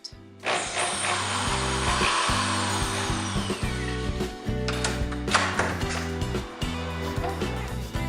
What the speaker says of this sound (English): Now here I'm using my larger drill.